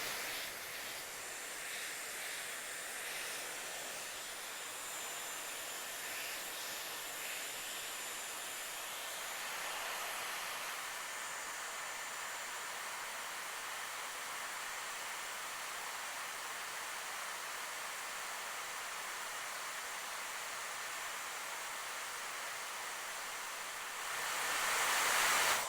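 A Dyson Airwrap blows a steady, breathy rush of air while curling hair, holding an even level throughout and swelling louder right at the end, with no talking.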